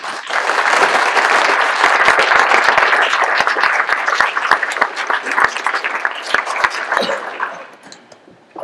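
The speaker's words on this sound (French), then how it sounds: "on peut les applaudir très très fort" Loud, sustained applause from a crowd of people, steady for several seconds before thinning out and fading.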